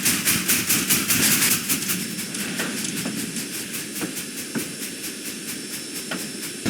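A steam locomotive puffs beside a railway roundhouse, its hissing exhaust beats coming in a steady rapid rhythm that slows slightly, loud and close with no voices.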